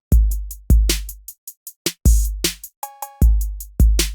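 A programmed beat's drum pattern plays alone: booming kicks with long low tails, sharp snare and hi-hat hits in a syncopated rhythm, plus a short tonal stab near the middle.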